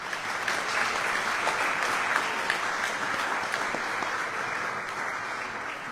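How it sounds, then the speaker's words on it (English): An audience at an Indian High Commission farewell address gives a sustained round of applause for the team, dense even clapping from many hands that holds steady and close throughout. "I would like to give you a big round of applause to her and to the team India in the Indian High Commission"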